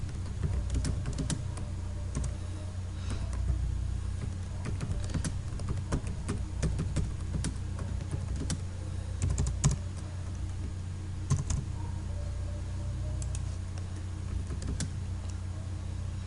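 Keys clicking on a computer keyboard as text is typed into a CorelDRAW page, irregular bursts of sharp taps close by, with pauses between runs and a low steady room hum underneath.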